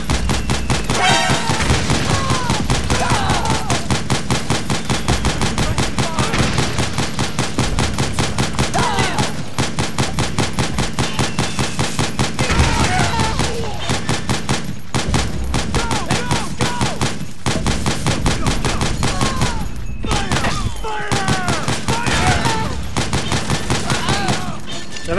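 Sustained rapid gunfire from a Metal Gear Solid 4 battle, loud dense automatic bursts rattling almost nonstop with only brief gaps, a voice occasionally talking underneath.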